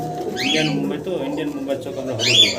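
Pigeons coo in low, throaty bursts through a busy trading setting at a pigeon market, while people talk steadily over them and a few brighter chirps cut in.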